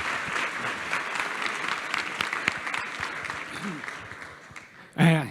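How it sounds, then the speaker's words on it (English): An audience at a security conference applauds steadily after a talk, dense and even, then tapers off before a voice breaks in at the end. "clap, clap, clap, clap."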